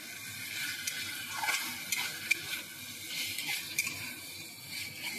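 A cabbage curry cooked with fish head gets stirred in a pan, giving a low steady sizzle with soft intermittent scrapes of the spatula, fairly quiet and close, with no voices.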